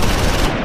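Gunfire in the World War II game Close Combat IV: Battle of the Bulge, in a winter battle scene, a brief loud burst of dense, rapid shots.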